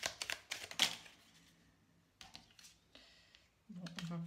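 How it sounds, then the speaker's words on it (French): Tarot cards being drawn and handled make quick papery flicks and soft taps in short bursts, close and fairly quiet, with a faint hum near the end. "je vais tirer quelques cartes"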